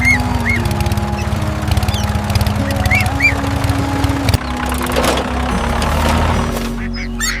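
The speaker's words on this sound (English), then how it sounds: "Quacking." A cartoon duck quacks over and over in short nasal honks. Under it runs a steady bed of background music and ambience, and the sound ends in a brief clatter.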